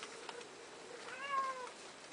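A kitten gives a single thin, drawn-out meow, faint and close, in an otherwise quiet room.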